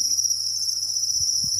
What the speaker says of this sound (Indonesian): inilah indukan jangkrik madu kita